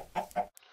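Two short, clipped clucks from a Minecraft chicken come close together, followed by a brief high blip and a faint lingering tone.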